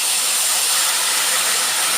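Jaggery syrup, 350 g of jaggery melted in two cups of water, pours into a hot pan of roasting flattened rice with a loud, steady hiss that lasts about two seconds without a break.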